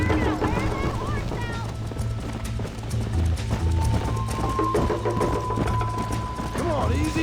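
Horse hooves clip-clop at a fast gallop during a race in the video game Red Dead Redemption, a steady drumming rhythm that carries on throughout, close and loud, with voices talking over it.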